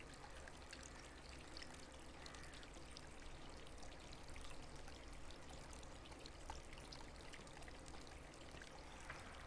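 Steady rain hiss in the Agatha Christie game The ABC Murders, a faint continuous wash of falling water with scattered small drips, no voices.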